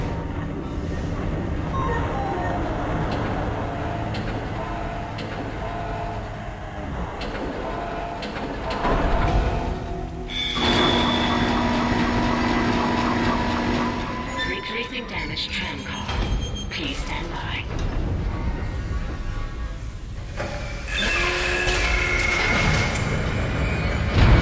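Tram rolling along rails in Dead Space, a rumbling, clattering run with metallic screeches and shifting mechanical noise, heard under intermittent talk.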